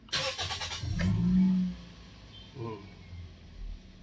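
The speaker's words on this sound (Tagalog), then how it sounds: "pwede ko nang pa-start itong makina" A Toyota Vios engine, freshly serviced with a cleaned throttle body and sensor, cranks and fires up close by. A loud burst settles into a low idle hum, with brief voices in the background.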